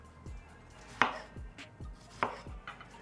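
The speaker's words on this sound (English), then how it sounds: "and then make those into little cubes" A knife chops watermelon into little cubes on a board, giving soft, evenly spaced thuds and a few sharper knocks, close and fairly quiet with no talking.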